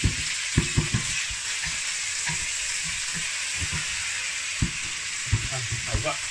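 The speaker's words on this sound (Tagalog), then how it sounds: "Siyempre ating gigis na yan" Ingredients for arroz caldo sizzle and fry steadily in a hot pan, with a constant hiss and occasional sharp clinks and scrapes of the spatula stirring close by.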